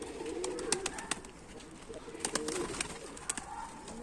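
Mardin pigeons coo softly outdoors, low throaty calls rising and falling over a few seconds, fairly faint and mixed with light background noise.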